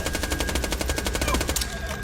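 Rapid sustained SMG fire in Borderlands, an FPS whose submachine gun grows more accurate the longer the trigger is held, a loud, steady stream of evenly spaced shots lasting about two seconds with no talking.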